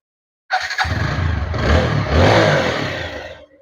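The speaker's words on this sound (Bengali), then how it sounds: "এখন বাইকটির স্টার দেবো আর কি স্টার দিয়ে সাউন্ড করে শোনার চেষ্টা করবো আপনাদের" A TVS Apache 4V motorcycle with double disc brakes starts up; the engine catches abruptly and settles into a loud, steady close-range idle with slight revving swells, no talk over it.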